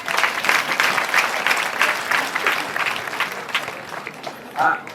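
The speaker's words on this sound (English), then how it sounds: "Let us give God a round of applause." Audience at a school prefects' handover party breaks into lively clapping, a dense burst of applause that swells and then tapers off over a few seconds, with voices mixed in.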